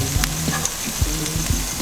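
Onions brown in a hot pan with a steady, close sizzle, broken by several scraping stirs of a utensil against the pan. No one speaks.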